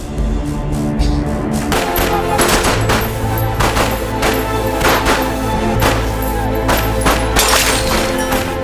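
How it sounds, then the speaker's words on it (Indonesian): Film shootout scene with rapid bursts of automatic gunfire and scattered single shots ringing out over a continuous dramatic music bed, dense and loud throughout with no clear pauses. "akhirnya baku tembak pun terjadi"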